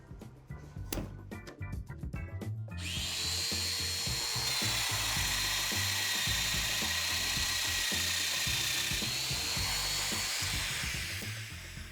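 A Domino joiner cuts an alignment mortise into wood for a mobile MFT cart, set by its flaps: a few short clicks and knocks first, then a loud, steady whining buzz as the cutter runs for about nine seconds before winding down.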